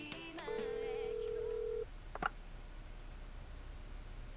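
Telephone being dialed in the video game 428 Shibuya Scramble: a short burst of tones and a couple of soft electronic clicks, fairly quiet, followed by a steady low hum, with no voices.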